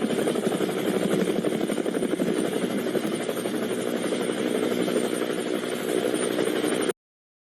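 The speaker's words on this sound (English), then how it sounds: "Helicopter." A helicopter's rotor thrums steadily and loudly with a continuous engine whine, then cuts off abruptly near the end.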